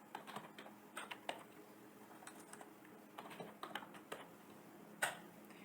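Code is typed on a computer keyboard in scattered bursts of soft key clicks, close and fairly quiet, with pauses between runs and one sharper keystroke near the end.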